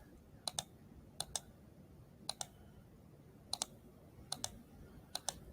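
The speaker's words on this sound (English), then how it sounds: "You can kind of hear my mouse." Computer mouse clicking during tracing with a curve tool in Google Drawing, heard as about a dozen sharp, quiet clicks, mostly in quick double pairs, spaced across the stretch over a faint steady background hiss.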